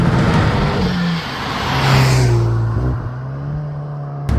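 Inside a Renault Megane RS hot hatch held in third gear, the engine drones loudly and its pitch rises and falls with the throttle. No one speaks, and a sharp click comes near the end.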